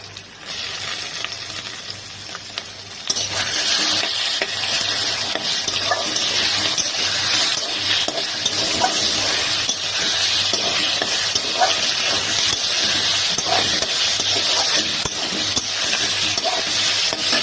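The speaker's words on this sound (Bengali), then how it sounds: "এখন আমি এটাতে অ্যাড করবো আমার স্লাইস করে কেটে রাখা চিকেন।" Sliced chicken going into a hot pan for a Chinese-style vegetable stir-fry: after a quieter few seconds, a loud, dense sizzle bursts in and stays steady with occasional stirring, close up and without talk.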